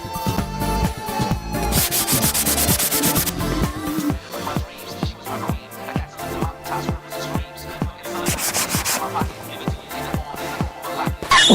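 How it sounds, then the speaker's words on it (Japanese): Body filler putty on a DIY Lamborghini-style kart body is hand-sanded with steady, rhythmic back-and-forth scrapes, close and loud, with music playing underneath. "そのパテを削ってどんな状態でもそれで仕上げていきます。"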